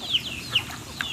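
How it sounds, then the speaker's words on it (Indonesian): Herded ducks just back from grazing give short, sharp calls, three distinct quacks spaced about half a second apart, close by over a faint outdoor background. "Dan ini bebeknya"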